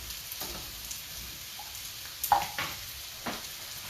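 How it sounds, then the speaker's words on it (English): Paprika-coated vegetables sizzle in a pan as they are stirred, a soft steady frying hiss broken by a few scraping strokes of the utensil, close and fairly quiet with no talking. "let's stir this up, try and get a little bit of coating on these veggies so it'll start to cook"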